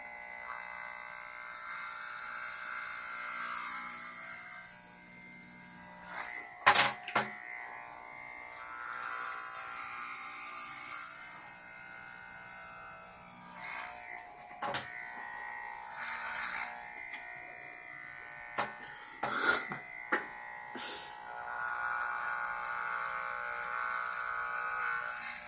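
Electric hair clippers buzzing through hair in a home haircut, a thin steady hum that runs almost throughout, broken by a few sharp handling knocks and brief pauses.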